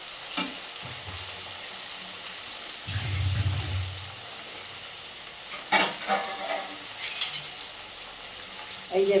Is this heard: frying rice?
yes